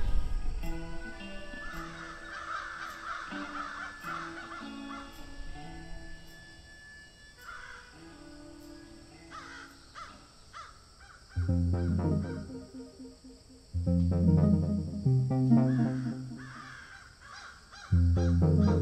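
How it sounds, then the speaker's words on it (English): Crows calling near an old ghost town, with scattered harsh caws over a low rumbling background in the first half, then heavier, louder low-pitched noise bursts later that partly mask the birds. "Sounds like crows."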